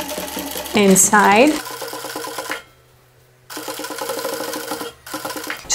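A sewing machine stitches a polo shirt in fast rhythmic runs, loud and close, pausing briefly around the middle before resuming; a voice speaks briefly over the start.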